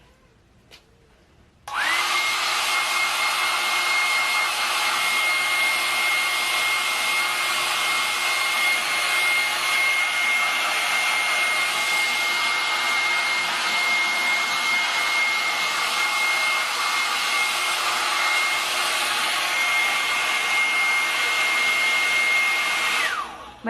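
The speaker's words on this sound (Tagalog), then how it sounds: "At ngayon, mag-blower muna ako." A hair dryer switches on after a short quiet moment and blows a loud, steady whoosh with a constant whine at close range for the rest of the time, drying wet, freshly conditioned hair.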